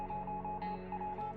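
Faint electronic beeps and tones of an incoming radio transmission in the survival video game 60 Seconds Reatomized, a steady buzzing signal with short pitched blips over a low hum.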